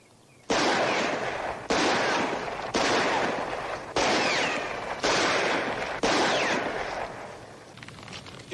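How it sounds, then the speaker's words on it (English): Revolver shots in a Western-era outdoor scene, six loud sharp reports spaced about a second apart, each ringing out with a long echoing tail, no talk over them. "why don't you just take out your gun and shoot at some?"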